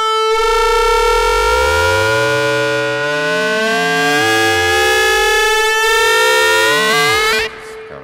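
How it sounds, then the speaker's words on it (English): A ROLI Seaboard synth with ring modulation: a steady held pitch is layered with sidebands that glide up and down in siren-like sweeping arcs, loud and continuous for several seconds before cutting off. "for this sound, instead of bending the pitch, it's affecting the amount of ring mod that happens"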